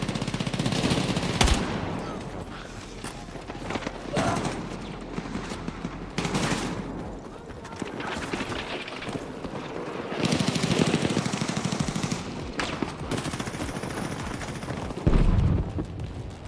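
SMG fire in the video game Battlefield 6 comes as loud, rapid bursts of automatic shots at intervals, mixed with other battlefield gunfire and blasts.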